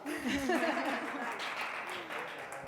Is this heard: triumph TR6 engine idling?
no